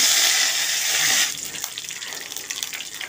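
Cumin seeds and curry leaves hit hot oil with a dried red chilli for a potato tempering, giving a loud sharp hiss that drops after about a second to a steady softer sizzle with faint crackles, close by.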